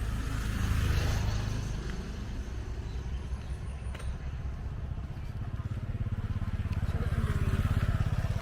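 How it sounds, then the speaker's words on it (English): Motorbikes pass along a village road near Chiang Mai in rural northern Thailand, their engines droning and swelling in and out, moderately close, with a steady low rumble. "Motorbikes."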